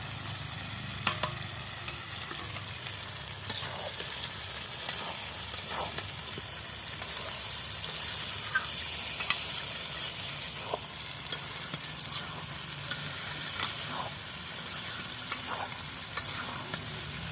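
Fried potatoes going into a sizzling chicken curry made without ginger, garlic or onion, the oil hissing steadily while a spoon scrapes and stirs in occasional clicks, close and continuous.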